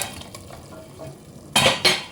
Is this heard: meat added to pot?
yes